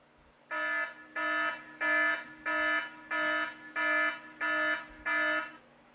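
An electronic alarm sounds in eight evenly spaced, sustained buzzing beeps, each about half a second long, loud and alone with no voices.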